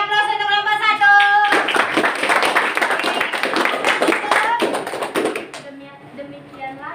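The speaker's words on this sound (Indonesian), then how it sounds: "Oke, beri aplaus untuk kelompok" A classroom claps for a student group that has just finished presenting, brisk clapping crowding in after a brief stretch of voices and continuing for several seconds before tapering off, with talking before and after.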